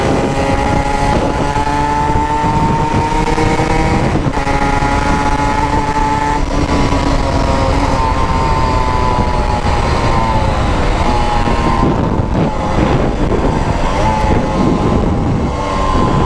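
Honda NSR 125 motorcycle accelerating hard, its engine rising in pitch through the gears with brief dips at each shift, loud, close and continuous for the whole stretch.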